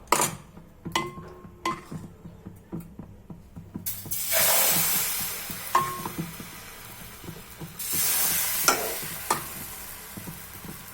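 Rice flour roti pitha fries in a lightly oiled hot pan, with bursts of loud hissing sizzle between quieter stretches and sharp clicks and taps of a spatula throughout.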